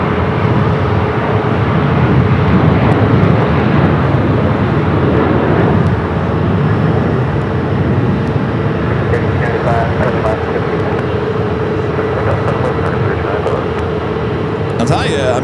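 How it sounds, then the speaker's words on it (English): A Sun Country Boeing 737-800 takes off from runway 7 left at Phoenix Sky Harbor, a steady loud jet roar lasting throughout, heard under someone talking continuously. "Sun Country is 737-800. Next takeoff here, 7 left."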